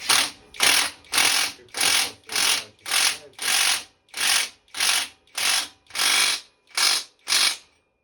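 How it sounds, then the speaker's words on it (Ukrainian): A bicycle bottom bracket cartridge is spun by hand to check its rotation, giving about thirteen evenly spaced bursts of rapid, close ratcheting whir with short gaps between them. "Перевіряємо, чи картридж крутиться."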